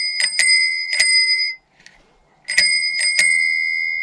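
The bell on a 1988 Romet Jubilat 2 bicycle rung several times: bright metallic dings in two quick clusters separated by a short pause, loud and close with ringing overtones.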